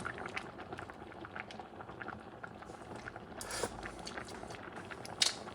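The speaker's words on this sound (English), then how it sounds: "Starting to simmer." Pot of dried whole peas with potatoes and pumpkin simmering, faint soft bubbling and popping with small irregular blips and a couple of brief louder clinks, quiet and close.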